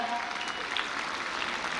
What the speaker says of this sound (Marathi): हात वर करून जोरदार टाळ्या.